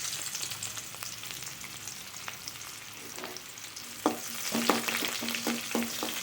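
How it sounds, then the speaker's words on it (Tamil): Chopped onions frying in oil with spices for a jackfruit masala curry, a soft sizzle that grows louder as a spatula starts scraping the pan in quick strokes. "இந்த வெங்காயம் கொஞ்சம் வதங்கட்டும்."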